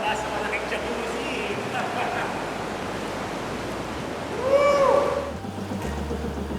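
Ocean waves slosh and crash around a sea cave, a steady wash of surf heard alongside a narrator's voice and a brief whistling tone.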